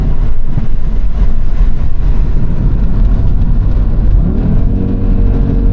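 An Audi RS3 with its five-cylinder engine and a Revo Stage 2 tune accelerating on a wet road: a loud, close, continuous engine roar whose pitch climbs near the end.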